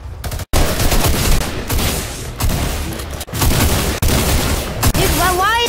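Tactical shotgun fire in the video game Fortnite: loud, dense bursts of booming shots and clatter filling the clip, with brief gaps between volleys and a short chiming game effect near the end.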